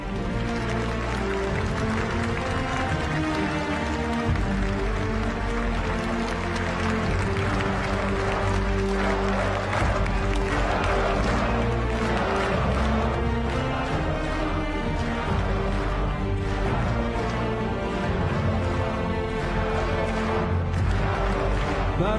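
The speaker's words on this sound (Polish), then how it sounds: "Ogromne brawa!" Applause fills a large hall at a Law and Justice party convention in Warsaw, a steady loud wash of clapping blended with music that runs throughout.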